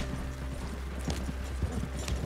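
Horse hooves gallop in the video game Red Dead Redemption 2, making a quiet, rhythmic clip-clop of steady hoofbeats over faint game ambience.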